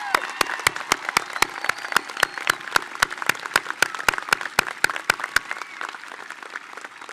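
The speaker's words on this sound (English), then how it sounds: "please stand and give them a round of applause" A graduation audience standing in the stands applauds the teachers. Sharp, evenly spaced claps ring out loud and near, repeating steadily for several seconds before fading, over a murmur of crowd.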